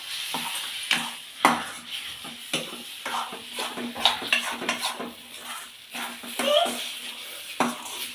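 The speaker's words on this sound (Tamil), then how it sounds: "அதில் இப்போ நான் வந்து நல்லா கிளறிக்கலாம்" Rava and milk mixture stirred in a pan for sweet banana rava paniyaram, a Chettinad dish, with repeated scraping and clinking of a utensil against the pan and a light sizzle underneath, close and steady.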